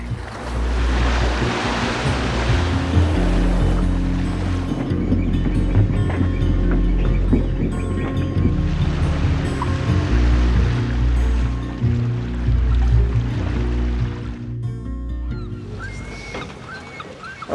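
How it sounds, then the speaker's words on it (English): Sailing boat out at sea, waves washing and surging steadily around the hull with wind rushing across the microphone, a continuous loud wash of water with no voices. "we're sailing"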